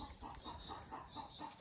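Hens cluck softly while feeding at a hopper feeder holding a grain mix, a series of short, regular clucks at a moderate distance, fairly quiet with no talking.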